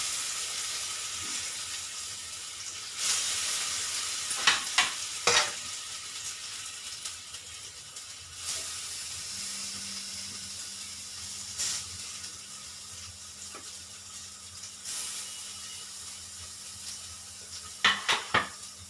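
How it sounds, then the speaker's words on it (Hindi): Banana kofta fries in hot oil with a soft, steady sizzle and hiss. Sharp clinks of a utensil against the pan cut in now and then, and a low hum enters midway. "ये देखो, ये फ्राई हो रहे हैं"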